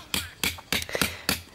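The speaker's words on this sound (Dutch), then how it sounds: "is papa nog druk aan het timmeren" Hammering while a camping tent is being set up outdoors: five sharp, evenly spaced blows ring out close by, with no talking between them.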